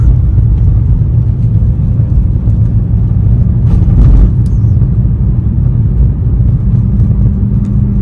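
A BMW E46 318i with the M43 engine drives through the city at night. Heard from inside the cabin, it gives a constant, loud low rumble with light road noise and no speech.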